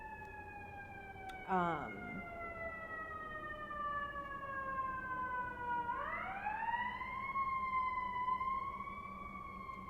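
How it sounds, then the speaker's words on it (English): An ambulance siren wails through a New York City street, its steady tones sweeping and then rising into a yelp as it passes at moderate distance, with a brief spoken filler word at the start. "Ambulance."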